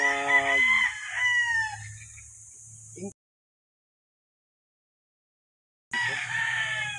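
A Mt. Banahaw rooster on a chicken farm crows loudly and close by, with a long drawn-out call. Faint clucking follows, then a stretch of silence, and then another crow begins.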